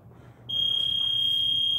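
A workout round timer buzzer sounds at the end of an at-home MMA striking round, a sudden loud, sustained electronic tone that starts partway in and holds steady to the end, with no talk.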